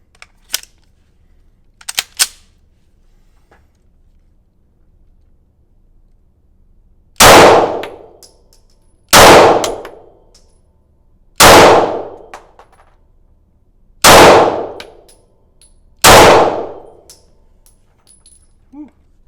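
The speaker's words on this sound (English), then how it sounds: "So we're going to go through 50 rounds here real quick." Five loud, sharp pistol shots from a Glock fitted with a stabilizer brace, fired at a target 25 yards downrange, spaced roughly two seconds apart, each cracking out alone after a few faint metallic clicks.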